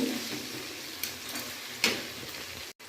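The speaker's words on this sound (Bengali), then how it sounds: "আদা রসুন ভালো করে ভেজে কষিয়ে" Ginger and garlic frying in a pan, a soft continuous sizzle broken by a few faint stirring clicks and a brief scrape near the end.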